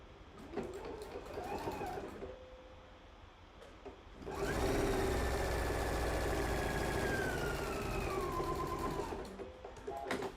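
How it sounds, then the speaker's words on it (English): Sewing machine understitching a fly front zipper: a fast, steady mechanical whir starts after a few seconds and runs continuously, close and loud, after softer handling sounds and brief talk. "Now I'm going to drop my needle and do some understitching here."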